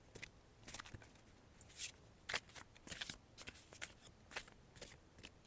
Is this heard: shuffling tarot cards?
yes